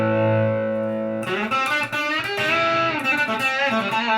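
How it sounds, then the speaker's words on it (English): An electric guitar runs through an effects unit with overdrive for a crunchy classic rock tone: one sustained chord rings out, then chords strummed rhythmically with distortion, loud and close, with no voices. "That's just a crunch. Good classic rock tone."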